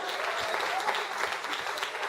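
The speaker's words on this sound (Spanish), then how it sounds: "Dale un aplauso a Cristo con gozo." A church congregation breaks into steady, dense applause during a Spanish-language sermon, a continuous wash of many hands clapping that carries from start to finish.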